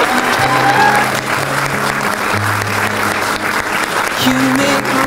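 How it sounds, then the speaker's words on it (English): Wedding guests applaud the newlyweds with sustained, dense clapping that stays loud throughout, while steady music plays underneath. "please be upstanding and applaud our newlyweds, Nikki and Shane Kelly"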